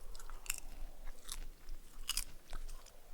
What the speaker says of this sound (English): Let me know if my crunching gets distracting.